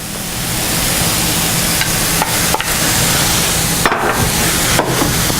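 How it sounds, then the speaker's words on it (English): Corn stirred into Southwestern egg roll filling in a hot pan, a steady close sizzle with scraping stir strokes and a few sharp knocks of the utensil against the pan. "Let's give this a mix."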